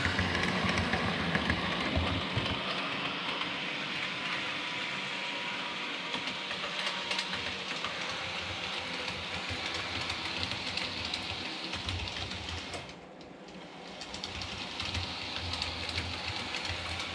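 Two Bachmann class 20 model locomotives run together on a layout, giving a steady, close whirring and rumbling hum that stays even throughout, with one brief dip in level near the end.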